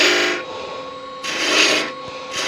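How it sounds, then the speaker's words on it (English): Detail gouge cutting a rough ball shape on top of a wooden kitchen roll holder spinning on a lathe, a close rasping scrape in three bursts with a steady motor hum between. "Put the detail gouge in there."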